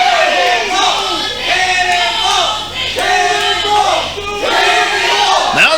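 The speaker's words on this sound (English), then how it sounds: "Now the Cannonball chant." A CWF wrestling crowd chants Cannonball's name in a loud, steady rhythmic cadence, the two-beat call repeating about five times and filling the arena.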